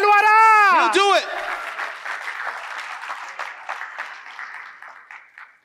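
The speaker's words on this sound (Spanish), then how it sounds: "Somebody alguien dele un aplauso." A church congregation breaks into applause right after a brief voice, the clapping dense and steady at first, then gradually thinning and fading toward the end.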